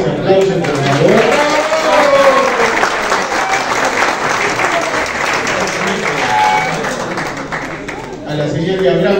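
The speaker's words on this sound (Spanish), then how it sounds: "Aplausos, aplausos, por favor." Sustained, loud crowd applause fills a church community celebration honouring priest chaplains of the Equipos de Nuestra Señora, with dense clapping throughout and voices mixed underneath.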